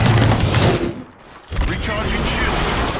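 Gunfire in a battle royale video game crackles in heavy bursts, cutting out briefly before resuming as a dense, loud barrage; there is no speech.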